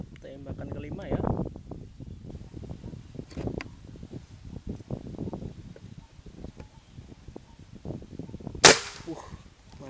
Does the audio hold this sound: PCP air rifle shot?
yes